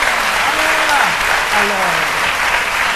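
A crowd at a scouting gathering claps loudly and continuously, the applause filling the whole stretch while a few voices call out faintly underneath.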